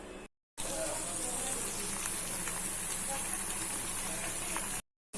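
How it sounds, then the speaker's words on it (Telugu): Soaked chicken pakodi deep-frying in hot oil gives a steady, dense crackling sizzle with scattered pops, moderately close, with a short silent gap at the start and at the end. "మనం నానబెట్టిన చికెన్ ఉంది కదా, ఇప్పుడు మనం డీప్ ఫ్రై చేసేసుకుందాం."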